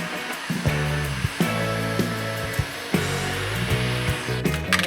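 Heat gun blowing steadily on heat shrink tubing during a 4x4 truck camper winch install, a loud continuous airy roar throughout with intermittent low mechanical clunks and tonal hum underneath.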